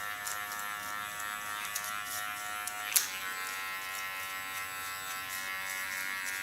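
A Kiona electric hair clipper shaving the nape of the neck, giving a steady high buzz with one brief sharper spike partway through and no talking.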